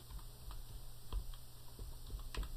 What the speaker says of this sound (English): I'm going to type in keyboard.